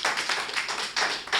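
Audience clapping at a Hindi kavi sammelan poetry recital, a steady ragged wash of many hands that surges louder in brief bursts over about a second and a half, with no voices heard.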